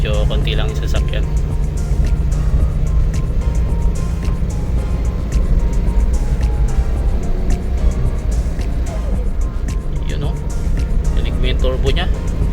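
A Suzuki Samurai DA64W 4x2 automatic turbo, its turbo hose recently repaired, drives along a lightly trafficked road, its engine droning steadily and loudly from inside the cabin while someone talks over it.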